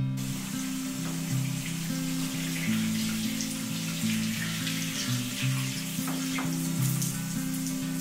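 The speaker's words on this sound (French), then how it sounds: "je vais le descendre dans la salle de bain et puis je vais lui donner une bonne douche" A bathroom shower sprays water onto a houseplant, a continuous hissing spray over a steady low humming drone, with no talking.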